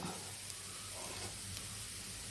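Chopped taro (chembu) roasting in a pan gives a faint, steady sizzle and hiss, low and continuous, with no voices.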